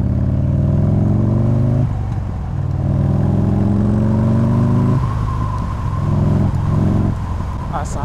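A Buell XB12S motorcycle pulls away hard, its deep V-twin engine rising in pitch through successive gear changes, loud and near with a rumbling, torquey tone.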